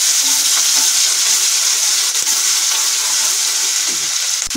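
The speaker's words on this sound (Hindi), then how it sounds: "अब मैं इसमें हरी मिर्च, लहसुन और अदरक का ये मसाला डाल दूंगी और इसे मैं भून लूंगी मसाले को।" A paste of green chilli, garlic and ginger fries loudly in a pan for a Dhaba-style baingan bharta, a dense continuous sizzle with occasional stirring scrapes and no voices.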